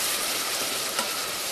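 Vegetables with frozen celery sweating in a pot for a tomato lasagne sauce, giving off a loud, steady hissing sizzle with stirring underneath, close up and brief, with no talking.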